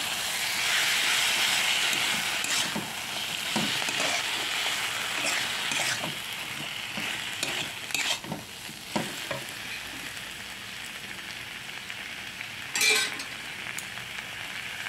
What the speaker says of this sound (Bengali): এবার বেটে রাখা সর্ষে আর কাঁচা লঙ্কাটা দিয়ে একটু কষিয়ে তাতে জল দিয়ে দেবো।